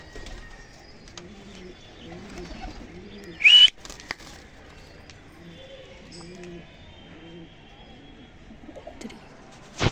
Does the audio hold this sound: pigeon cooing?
yes